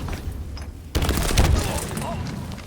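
Grenade blast in an esports video game finals match: a sudden booming explosion with crackling debris and rumble, preceded by quieter game sounds, with a commentator talking over it.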